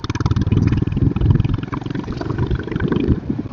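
Motorcycle engine while riding on a road, a close, steady pulsing rumble with rhythmic putter and some clatter, the bike cruising without voices over it.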